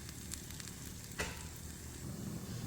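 Sweet potato slices fry in a pan with a steady, close sizzle throughout, a brief scrape or clink of a utensil cutting in about halfway.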